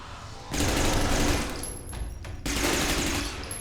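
Sustained automatic gunfire in the video game Interstellar Marines, a loud rattling burst that dips briefly midway, then resumes at full intensity.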